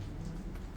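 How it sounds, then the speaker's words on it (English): Rain falls steadily in a Minecraft-style island game, an even soft hiss of drops with a faint low rumble, alone and unbroken. "Oh great, it's raining now."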